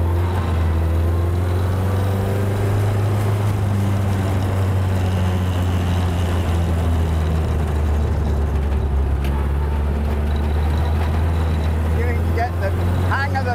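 A pre-war hot rod circles a race track, its engine droning loud and steady in a low gear throughout, with rushing wind noise over it; no talking.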